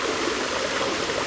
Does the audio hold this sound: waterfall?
yes